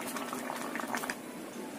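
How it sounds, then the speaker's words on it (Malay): Tofu and tempeh simmer in a turmeric spice broth in a pot, a soft steady bubbling with faint pops and gurgles, close but quiet. "Ini baru mendidih ya"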